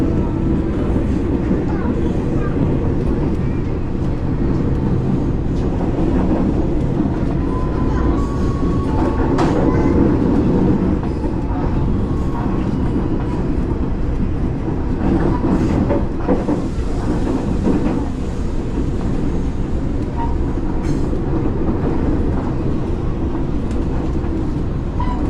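Inside a KRL commuter train travelling from Tanjung Priok toward Jakarta Kota: a steady loud rumble of the carriage with rail clatter and occasional faint wheel squeals throughout, and voices faintly audible under the noise.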